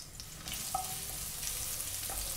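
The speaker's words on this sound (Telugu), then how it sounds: "మనం దంచి పెట్టుకున్న వెల్లుల్లి, 4 వేసాను వెల్లుల్లి దంచి వేసుకున్నాను." Crushed garlic fries quietly in a pan, a soft low sizzle with a faint stirring scrape or two.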